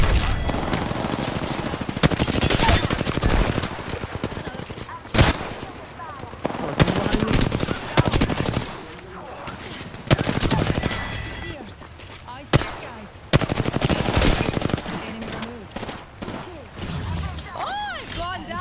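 Repeated bursts of rapid automatic gunfire in a first-person shooter, loud and close, broken by short pauses and single sharp shots, with a player talking over parts of the action.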